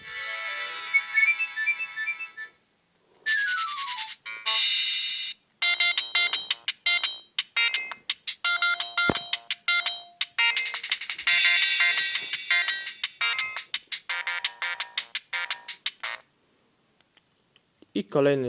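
A 2004 Siemens CX65 mobile phone plays its ringtones one after another: bright electronic melodies, whistly chirps and sliding tones, separated by short silences, loud and close.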